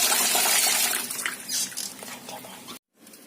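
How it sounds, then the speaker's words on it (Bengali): Tilapia fish are washed by hand in water, a close splashing and sloshing that swells and fades in bursts before cutting to a brief quiet moment. "মাছগুলোকে খুব ভালোভাবে ধুয়ে নেব।"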